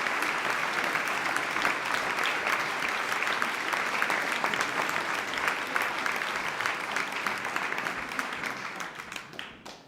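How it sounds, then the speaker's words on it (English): Sustained applause from the audience at a Rev. Dr. Martin Luther King Jr. celebration honoring awardees, a dense, even roar of clapping lasting nearly ten seconds before fading out. "If you would please join me in giving a round of applause to our awardees."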